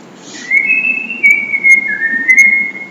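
A person whistles a sustained, wavering tune of long held notes with small pitch slides, close and clear against quiet room tone, with no talking.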